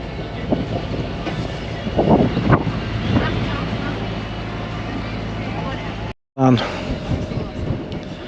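Wind buffets a microphone aboard a boat on the Norfolk Broads, a continuous roaring rush with gusty swells, briefly cut out once, while someone talks over it.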